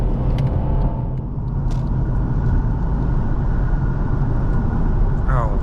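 A 2014 Mercedes E350d diesel saloon under hard acceleration, a loud continuous engine and road rumble heard from inside the cabin, with a voice faintly breaking in near the end.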